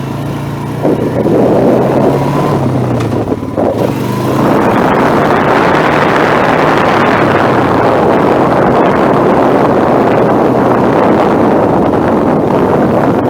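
A Honda Rancher ATV engine revs as the rider drives off and shifts up a gear, a loud, steady motor drone with heavy wind buffeting the microphone throughout.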